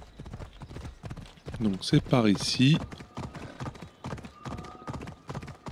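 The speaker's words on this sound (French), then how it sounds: "c'est ce cheval, si tu cherches à l'avoir, tu peux l'avoir toi aussi" Hoofbeats of a horse in Assassin's Creed Odyssey, the Atlantis expansion, clop in a steady rhythm throughout, with someone speaking French over them partway through.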